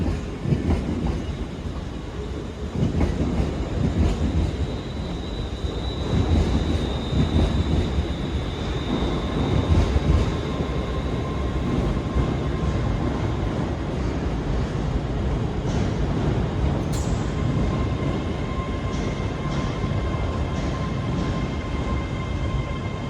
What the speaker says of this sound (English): Departing out now is the 10:07 Scotrail service, starting here at Glasgow Central, going to Neilston.